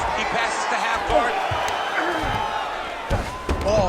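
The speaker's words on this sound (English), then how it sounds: "huge pop from the crowd as the fighters get back up to their feet" A virtual arena crowd in the UFC 5 fighting game roars steadily as fighters return to their feet, a dense wash of cheering with commentary voices talking over it.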